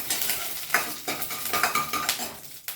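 Food sizzles in a hot pan while a utensil stirs and scrapes against the metal in quick, uneven strokes, close and moderately loud.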